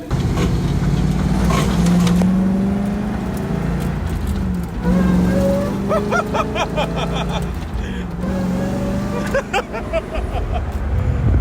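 A Mazda Miata engine cold-starts and settles into a loud, rough idle, its note rising and falling with throttle blips nearby, with some faint rattling alongside.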